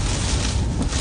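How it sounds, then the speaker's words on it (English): Heavy storm wind gusts buffet the microphone outside Jenison, Michigan, a brief loud rushing roar with no voices. "Very heavy wind gusts just outside of Jenison, Michigan."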